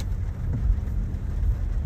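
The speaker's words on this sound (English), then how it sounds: "It's raining and I do not like it." Steady rain with a low rumbling wash underneath, continuous and fairly loud, with no voices.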